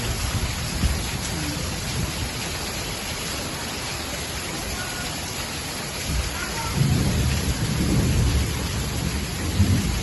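A heavy nighttime downpour hisses steadily while rolls of thunder rumble low and loud in the second half, swelling over the constant rain.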